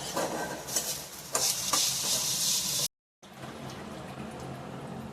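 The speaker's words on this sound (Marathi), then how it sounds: "त्याच्यानंतर लसणाच्या पाकळ्या पण वाटणात भाजायला टाका।" Garlic cloves and dried coconut roasting in a pan for misal masala, with a close, steady sizzling hiss and occasional stirring, broken by a short silent gap before the sizzle resumes.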